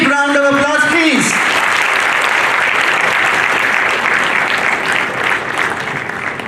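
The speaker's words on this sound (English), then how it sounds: "welcome him on the stage, Mr. Bivash Rath, with a big round of applause, please" Loud, sustained applause from an audience at a regional student quiz competition greets a guest welcomed onto the stage, with a brief voice heard at the start before the clapping fills the rest.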